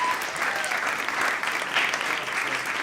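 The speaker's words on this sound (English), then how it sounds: "Can we get one more big round of applause?" A big round of audience applause at a jazz talk on Miles Davis and his electric period, loud, dense clapping sustained throughout with slight swells, no speech over it.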